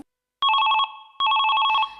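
A telephone rings in two loud, close trilling bursts separated by a brief pause, with no talking over it.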